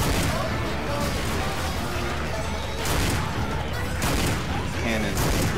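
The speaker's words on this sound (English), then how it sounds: "Cannon obliterates everyone on the steps." Heavy 12 gauge cannon blasts in Left 4 Dead 2 zombie shooter combat, several loud booming shots in a dense, chaotic wash of gunfire and crashing noise throughout.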